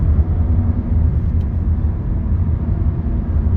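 A BMW E46 323i six-cylinder engine runs at a steady, loud, close-up idle, a smooth low rumble that holds evenly throughout.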